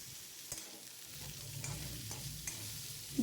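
Grated coconut roasts in a pan for a chicken gravy: a soft, continuous dry sizzle with quiet scraping stirs at intervals, heard close and alone at low volume.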